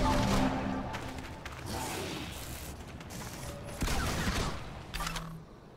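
Bombard attack in Civilization: Beyond Earth, with mechanical creaks and grinding followed by a couple of muffled impacts, moderately loud and without talk.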